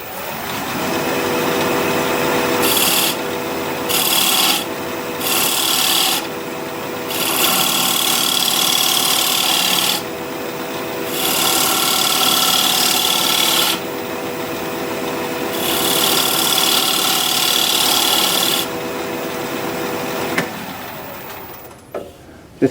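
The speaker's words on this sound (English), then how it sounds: "I forgot I want to bevel this edge" A curly maple piece turning on a wood lathe while its edge is beveled with a tool, a loud steady whirring hum with a scraping, rasping cut that swells and eases in repeated passes, ending with a sharp knock.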